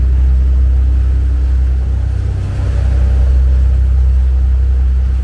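Twin Cummins diesel engines on a Tollycraft 34 Sport Sedan cruising at just under 1300 RPM, a loud, steady low rumble and drone heard from the bridge.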